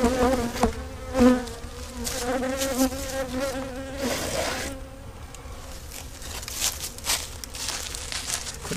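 Honey bees swarm and buzz around an opened hive from a single-brood colony weakened by beetle pests, a dense, wavering drone with layered wingbeat tones rising and falling close to the microphone, with no talking.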